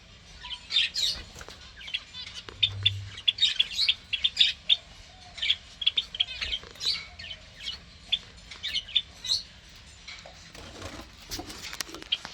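Pet white finches, zebra finches and Java sparrows kept indoors, a steady scatter of high, thin chirps and tweets repeating from several birds at close range, no talk.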